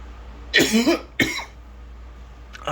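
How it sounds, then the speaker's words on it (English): Two harsh coughs from one person indoors, close and fairly loud, the first a double burst and the second single, followed by quiet, with a faint stir near the end. "I have a constant cough today, probably because of the weather, cold weather."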